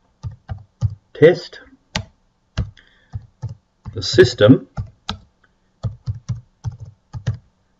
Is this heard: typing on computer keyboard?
yes